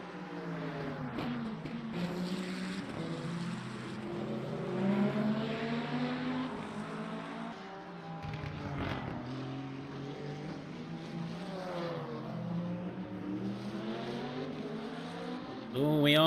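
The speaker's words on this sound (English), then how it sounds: "we are going to see one of the Ferraris running very slow out of that corner" Ferrari race car engines in a sim racing Le Mans event, droning and rising and falling in pitch as the cars pass by at a moderate distance, with a steady hum underneath.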